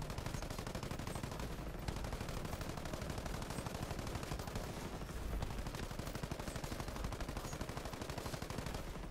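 Continuous rapid gunfire in Ghost Recon Breakpoint as players blast the Skell quantum supercomputer raid boss, a dense unbroken rattle of shots lasting throughout, loud and close with no talking.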